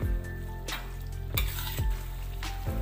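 Eggplant, anchovies and tempeh are stir-fried in a pan over medium heat, a soft sizzle running underneath repeated scraping strokes of a utensil against the pan, coming in a loose rhythm at close range.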